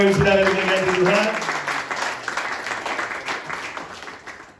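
Congregation applauding during a church worship service, a broad wash of clapping that fills the space from the start, with sung or spoken voices and a sustained musical tone over it, gradually thinning toward the end.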